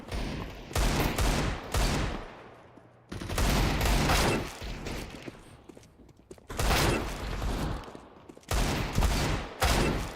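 Desert Eagle pistol fire in a video game comes as repeated loud bursts of shots and impacts, arriving in several clusters with brief lulls between them.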